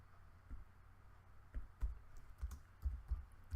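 Typing a command on a computer keyboard for a Cisco router session, a run of soft, irregular key clicks close up in a quiet room.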